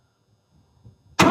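A rotary-engine project car starts, with a few faint cranking rumbles before the engine suddenly catches and roars loudly at close range.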